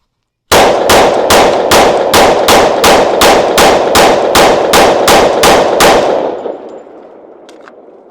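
A Smith & Wesson M&P 10mm pistol fires Freedom Munitions 180 grain rounds in a rapid, evenly spaced string of about eighteen loud, sharp, ringing shots, followed by a fading echo and a few faint clinks.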